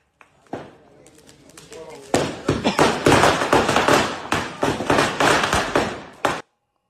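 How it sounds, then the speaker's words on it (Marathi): Firecrackers burst in a rapid, dense volley at a late-night birthday celebration in a city neighbourhood square, loud sharp cracks following a few scattered pops, with voices and crowd noise underneath. "हे सगळं फटाक्याची आतषबाजी करण्यात आली"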